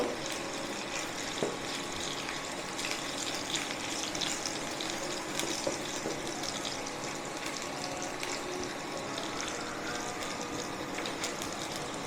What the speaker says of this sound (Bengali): অল্প করে কালো জিরে, জিরেটা একটু ভেজে নেব।